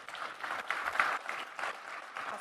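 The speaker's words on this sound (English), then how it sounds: "Yeah, you can clap." Brief, moderate applause from a conference session audience, a steady wash of clapping heard at a slight distance.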